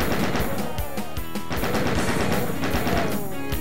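Rapid bursts of chaingun fire against chaingunners in Doom: The Plutonia Experiment, played on Ultra-Violence in the Ghost Town level: dense, continuous shots in a steady stuttering rhythm, loud and close, with no talk over them.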